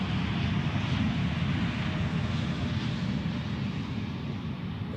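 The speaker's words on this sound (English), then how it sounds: "Those are idle reversers, I guess." Airliner thrust reversers spooled to idle after touchdown at Zurich Airport, a steady, loud, broadband jet roar with a heavy low rumble that holds for several seconds and eases slightly toward the end.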